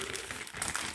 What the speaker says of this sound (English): So if we put this plastic bag,